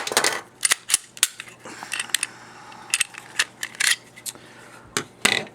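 A Glock 42 pistol is taken apart by hand, with sharp metallic clicks, snaps and clacks of parts and springs coming loose, close and loud, in irregular bursts separated by brief quiet gaps.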